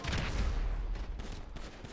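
Cover fire rattles through a GTA Online firefight as a dense volley of rapid gunshots, loud and continuous for the whole moment.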